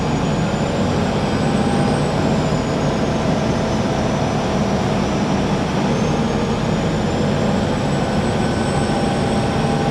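Twin Volvo TAMD 63P marine diesel engines on a 2000 Pursuit 3400 Fisherman boat run steadily at idle after starting, a loud continuous broadband rumble with a faint high whine, no talk.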